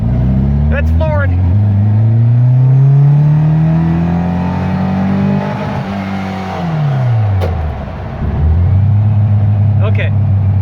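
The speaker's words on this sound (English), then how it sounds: "So we're gonna go to second gear and then floor it." A car fitted with a 34 PICT 3 carburetor accelerates in second gear at full throttle, engine note rising steadily and loudly, then dropping and climbing again as a voice talks over it.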